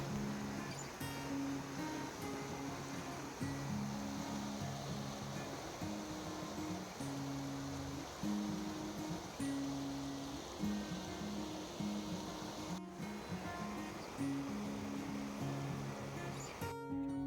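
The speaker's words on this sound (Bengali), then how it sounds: "যত এগিয়ে যাওয়া যাচ্ছে তত নদীর স্রোতটা বেড়ে যাচ্ছে এরকমভাবে নদীটা বয়ে যাচ্ছে এখন" A river swollen by rain rushes through Alkrington Woods nature reserve with a constant broad roar of flowing water, while low, steady musical tones play underneath throughout.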